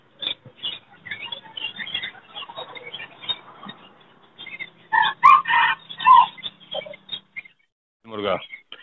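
An aseel rooster at a bird market crows loudly from close by amid clucks and busy crowd chatter, with someone talking in between the calls.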